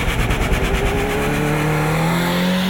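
Racing cars at an autodrome on a rainy day with poor grip: a loud, close engine note that rises steadily in pitch as one car accelerates, with a second engine growling underneath.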